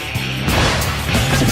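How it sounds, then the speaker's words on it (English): Ford Mustang GT500 V8 exhaust roaring loudly and steadily, a deep continuous rumble close up, rising after a brief quieter opening. "It's the classic American V8 noise."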